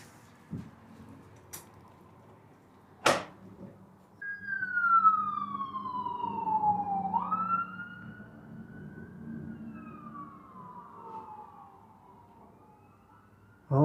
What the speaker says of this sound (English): I heard police sirens